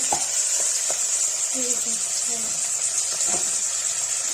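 Whole cloves hit hot oil for a Kashmiri-style greens and paneer dish, giving a steady bright sizzle that runs loud and continuous throughout, with faint stirring taps underneath and no talking.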